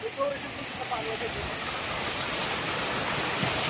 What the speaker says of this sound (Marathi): अख्खा प्रवाह तुमच्या शेतात जातोय का?